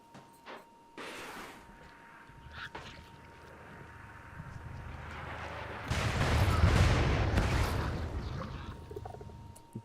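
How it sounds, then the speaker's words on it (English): Rockets firing in the video game Rimworld: a few sharp launches early on, then a loud, sustained roaring barrage of blasts and rumble in the second half, with steady background game sound. "And the rockets are going to fire."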